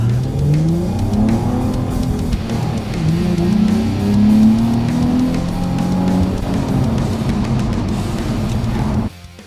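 A 350Z sports car engine fitted with an Mrev intake revs hard and accelerates, its pitch climbing through several gear changes, loud and close throughout before cutting off abruptly at the end.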